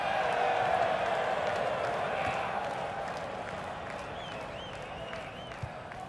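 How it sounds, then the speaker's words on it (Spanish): Stadium crowd applause and cheering in a FIFA 18 football match between LA Galaxy and River, a steady, dense roar that fades slightly over time, with a voice faintly over it. "Aplausos, señores."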